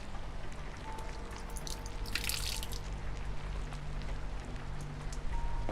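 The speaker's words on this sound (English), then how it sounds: "Droplets of water trickle down the hose." Water droplets trickle and patter down a hose beside an aluminum shower in the game Holstin, a continuous light dripping over a low hum, with a brighter splash of water about midway.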